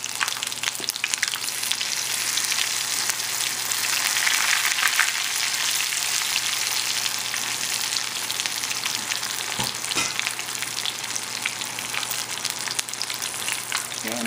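Shrimp tempura bubbles and sizzles in a small amount of hot oil, a steady close crackle that runs the whole stretch with a few soft clinks and no voices.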